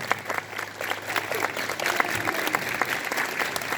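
At a morning school assembly, a group of students applauds in a continuous, busy wash of hand claps, fairly loud and close, swelling slightly midway and holding steady throughout.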